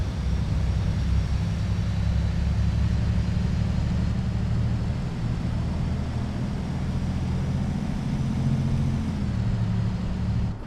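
A double-decker bus engine in a bus simulator game, a MAN or Scania model, gives a steady, loud, low droning rumble that runs unbroken throughout with no voices.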